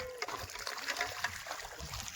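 Irrigation water trickles and flows into wheat and coriander fields on a farm, a soft continuous stream with small splashes, steady and moderately close, with no talking.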